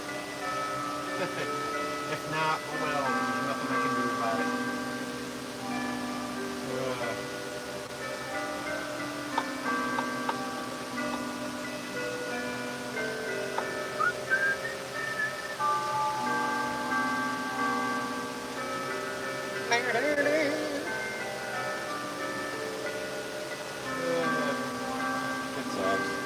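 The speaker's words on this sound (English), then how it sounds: "Hope you guys enjoy the bells." Tuned bells ring out in overlapping melodic peals across a long stretch, steady and fairly distant, while someone talks briefly over them.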